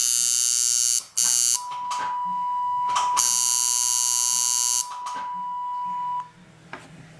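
A tuning app sounds a reference tone for the note B, a steady pitched beep lasting about five seconds over loud hissy background noise with bursts of clatter.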